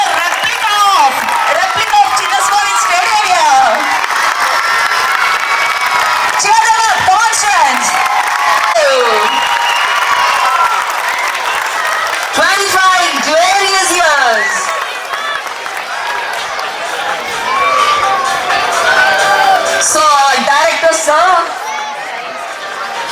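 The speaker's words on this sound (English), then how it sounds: "So here are our directors, principal ma'am. Round of applause." Crowd at an inter-school tournament's silver jubilee celebration applauding and cheering for the directors and principal, with loud, sustained clapping, rising whoops and shouts across the whole stretch and only a brief dip in the middle.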